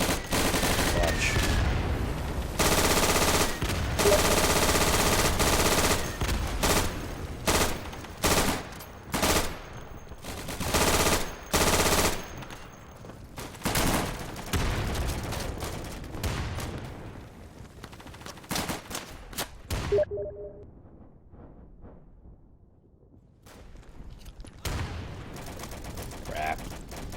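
An MG42 machine gun fires in the Day of Infamy game in repeated loud bursts of rapid shots with short gaps between, then falls into a quieter stretch, while someone talks over it.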